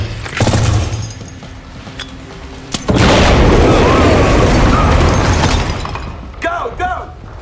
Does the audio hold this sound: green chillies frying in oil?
no